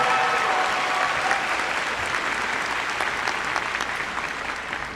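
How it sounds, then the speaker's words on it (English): Sustained applause from a large audience at a high school graduation ceremony, a dense steady wash of clapping filling the hall for several seconds, with a faint voice or tone briefly audible at the start. "Please give a round of applause to all these individuals who helped this morning's ceremony."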